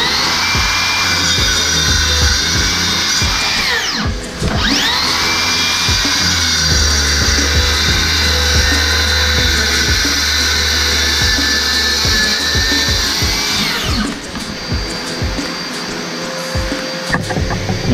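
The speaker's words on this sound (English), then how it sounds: "We've got the dust extraction hooked up. I'm just going to flick that on and we'll do a couple of cuts." A Makita 36v brushless slide compound mitre saw cuts kiln-dried hardwood with dust extraction running, giving a loud, continuous high whine that dips briefly twice as each cut finishes, with no talking.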